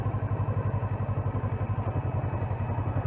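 Kawasaki Versys 650 motorcycle engine at a steady low idle-like chug while the bike is leaned over at full steering lock, a continuous close rhythmic thrum with faint clatter and no talk.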